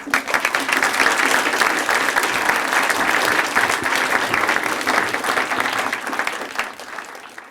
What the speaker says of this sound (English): Can we have a round of applause for these two?